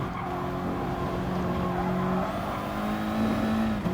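Race cars, among them a Dutch Viper, roar together in a GT Sport race at the Nürburgring 24h, with steady loud engine drone, gear-shift tones shifting pitch and a brief tire skid near the end.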